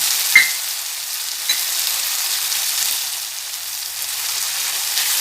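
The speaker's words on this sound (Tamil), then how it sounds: "தக்காளி உப்பு எல்லாம் போட்டு உடஞ்சிடுச்சு பூண்டு போட்டுடலாம்" Garlic sizzles in a pan of tomato masala, a steady close frying hiss with a couple of brief stirring knocks near the start and no voices.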